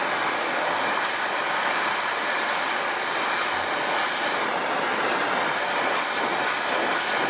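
A brazing torch heats a Schrader valve fitting, its steady roaring hiss of flame filling the space evenly and loudly, close up and unbroken, with no voices.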